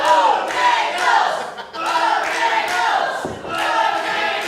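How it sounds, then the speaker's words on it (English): A wrestling arena crowd chants in a steady rhythmic beat, loud and close, with repeated surging shouts from many voices filling the hall. "the crowd picking up the chant, Beau Jangle"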